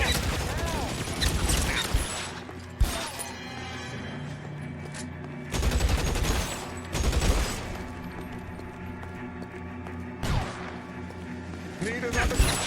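Bursts of Thompson submachine gunfire in the crime shooter L.A. Noire, loud rapid fusillades in several long volleys separated by short pauses, mixed with game sounds and voices speaking over the shooting.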